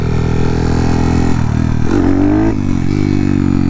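A 181 big bore Honda Monkey motorcycle being ridden on trails, its engine droning loud and steady up close, with small shifts in pitch as the throttle changes.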